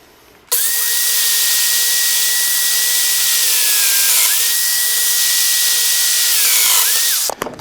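Festool Domino DF500 joiner cutting mortises in wood: a loud close power-tool whine starts abruptly, holds steady for about seven seconds with a brief dip midway, then stops.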